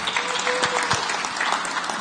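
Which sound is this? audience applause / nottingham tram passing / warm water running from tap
audience applause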